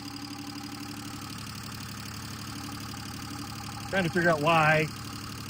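A Subaru Justy's 3-cylinder engine idles steadily with a low, even, slightly uneven-sounding throb, and someone speaks briefly over it near the end.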